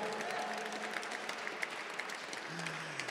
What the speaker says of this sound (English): please give him a big applause.